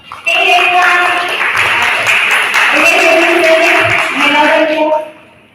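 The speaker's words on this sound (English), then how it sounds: "Let's welcome them to the round of applause" Audience applause welcoming candidates at an inclusive hiring event, a steady wash of clapping for about five seconds with a voice talking over it, then fading out.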